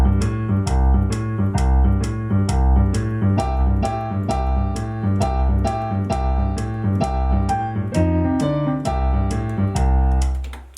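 Boogie woogie arrangement of Jingle Bells played on piano at 132 bpm, a steady bouncing bass pattern under bright chords, loud and continuous, ending with a final held chord.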